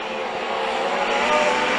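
Legend cars race on a speedway oval, sweeping out of turns three and four in a steady, loud roar of engines that swells slightly as the pack passes close.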